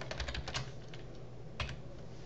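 Fingers type on a computer keyboard in short clustered bursts of quick, close clicks, then a pause and one more brief flurry, with no talk.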